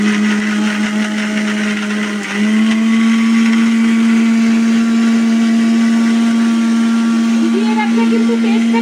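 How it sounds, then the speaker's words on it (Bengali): Soaked poppy seeds being ground into paste in an electric mixer grinder: a loud, continuous high whine close by that dips briefly, then resumes at a slightly higher, steady pitch until the end. "এবার এটা আমি আবার পেস্ট করে নিচ্ছি।"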